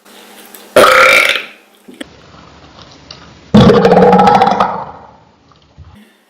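Two loud, close burps from a person during a casual mukbang meal of Chick-fil-A food. A long throaty belch comes first, then a second, rougher one after a short pause, with nothing else around them.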